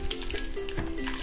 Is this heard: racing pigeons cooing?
no